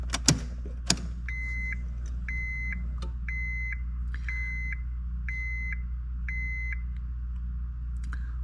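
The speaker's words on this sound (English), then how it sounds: "put the key in the ignition and turn it to the on position" A couple of clicks, then a repeating electronic chime beeps about seven times at a steady pace over a low engine hum as the ignition of a Honda S2000 is turned to on.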